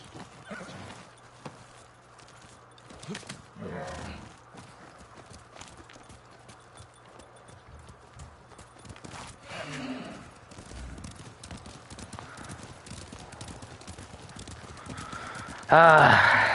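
In the video game Ghost of Tsushima, a horse whinnies loudly near the end, after stretches of hoof clip-clop and ambient game sounds with some voices.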